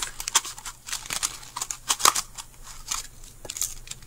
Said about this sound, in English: just need to take something sharp and cut it. Cut the bottom right off.